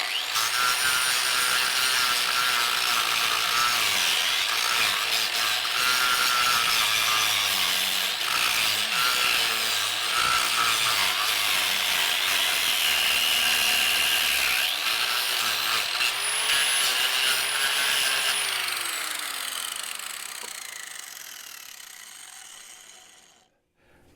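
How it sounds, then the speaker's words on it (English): A small 4-inch angle grinder levels a flat area on a wooden bowl blank for a faceplate, a loud continuous abrasive whine and rasp of wood being ground away, sustained for most of the clip before winding down at the end. "I like to use this little 4-inch grinder to clear off an area"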